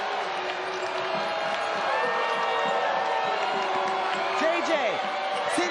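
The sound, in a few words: basketball crowd cheering and applauding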